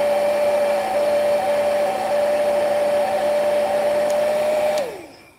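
A heat gun blows hot air onto paint on a plastic model, a loud, steady whining hum with a constant tone that holds for several seconds, then winds down in pitch as the gun is switched off.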